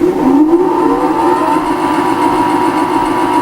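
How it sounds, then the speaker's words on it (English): A CNC lathe spindle starts up and spins at about 1,000 RPM, its loud whine rising quickly in pitch and then holding a steady tone with a close, continuous hum. "And we'll start our lathe up, and we'll see what it makes of it."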